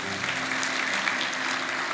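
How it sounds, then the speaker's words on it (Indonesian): A church congregation breaks into brief, steady applause during a sermon, a full wash of clapping lasting under two seconds with a faint low hum beneath it. "kasih tepuk tangan untuk Tuhan Yesus."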